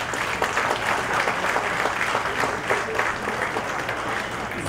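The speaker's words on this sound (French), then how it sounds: "on l'applaudit" Loud, sustained applause from a crowd at a French-language government ceremony, dense, continuous clapping filling the whole stretch.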